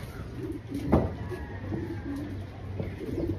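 Racing pigeons coo softly in low repeated phrases as they arrive home, with a brief clatter near the start and a steady background hum.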